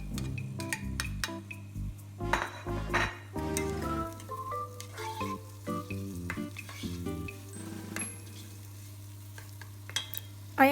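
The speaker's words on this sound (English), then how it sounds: "Next, add up your onion and garlic." Onion and garlic sautéing in olive oil for tomato soup, a steady sizzle with repeated stirring scrapes and occasional pan and utensil clinks throughout.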